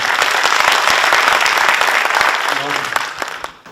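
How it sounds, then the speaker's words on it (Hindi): A mushaira audience at a Ghalib celebration applauds poet Ashu Mishra with loud, dense clapping that continues steadily before thinning out at the end, a voice speaking over it. "तालियां कम हैं आशू मिश्रा के लिए।"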